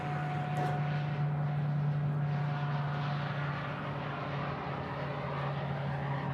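A small airplane takes off at Nashville International Airport, a steady, moderately distant engine drone with a tonal hum that fades gently toward the end.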